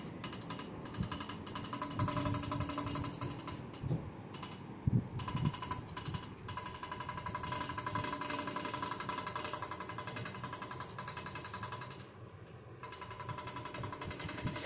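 A faulty electric fan rattles and clatters mechanically with a rapid, grinding chatter that runs steadily, with brief dips, and fills the room at close range without any talking.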